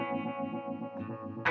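An electric guitar sustains a chord through a chorus pedal, the tone gently wavering and shimmering in a slow pulsing swirl, close and alone, with a new strum at the very end.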